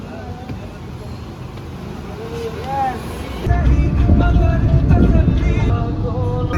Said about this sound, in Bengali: এই যে আমাদের গাড়ি এসে পড়লো